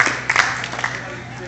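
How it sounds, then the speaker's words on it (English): Crowd applause for a young angler at a bass-fishing tournament weigh-in on Lake Fork, a short burst of scattered clapping that thins out fairly quickly. "Round of applause for this guy."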